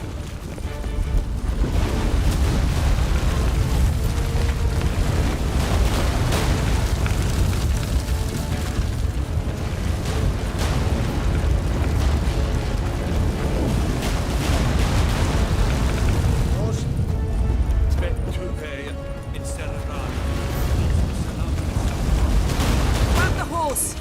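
An earthquake in The Witcher 3: Wild Hunt, heard as a dense, continuous deep rumble with booming crashes, loud and sustained throughout, easing briefly before building again. Voices may sound under the roar.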